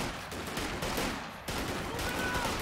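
Sturmgewehr fire in Company of Heroes 2, a dense continuous rattle of automatic gunfire with battle noise behind it, steady and loud with a short dip midway, no talking.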